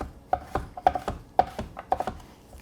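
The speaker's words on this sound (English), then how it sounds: "we can go back through with the other pieces and just cut those quickly" A knife chops through potatoes on a cutting board, several sharp, close taps in an uneven quick rhythm, alone with no talk.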